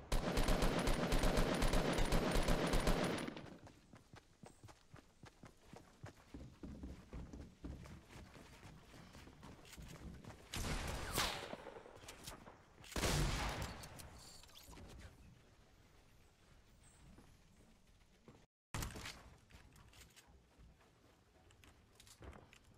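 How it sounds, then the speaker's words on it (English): Pump shotgun blasts in the Fortnite battle royale game: a loud, dense burst of gunfire up front, then a few sharp, separate shots later over quieter game ambience. "Eight damage on that pump shot, by the way."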